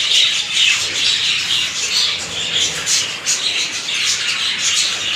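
Green cheek conures in a breeding setup squawking and chirping continuously, a dense overlapping chorus of shrill harsh calls, close and loud, with no clear talk.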